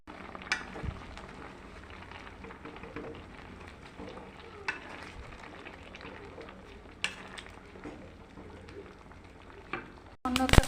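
Bori, whole cumin, fennel and mustard seeds fry in hot ghee in a pan, a steady crackling sizzle broken by a few sharp clinks of stirring and a louder clatter at the end.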